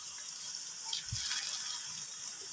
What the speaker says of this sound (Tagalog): Malakas kasi ang agos eh.